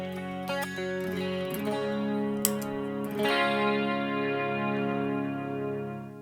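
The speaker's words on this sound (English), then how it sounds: "The Iset Booster." An electric guitar played through an Iset Booster pedal rings out with sustained, clean-boosted chords and a few picked notes. The tone is crunchy but not distorted, and no one speaks over it.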